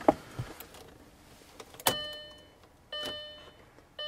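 Key turned in a car ignition that fails to start: a few close clicks and jingles, then short electrical whirs and a brief hum with no engine catching.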